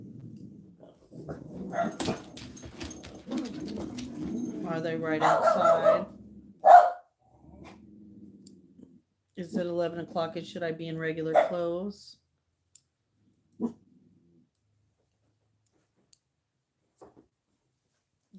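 A dog barks several times in short bursts, fairly close, mixed in among people talking nearby, then things fall quiet apart from a few faint clicks.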